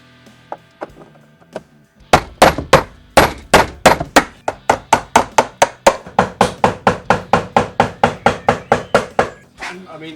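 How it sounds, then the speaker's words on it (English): A chisel hammered into a car panel to cut a square speaker hole, a few scattered knocks followed by a long run of sharp, loud, evenly paced metallic strikes close up. "Chisel away, Sam."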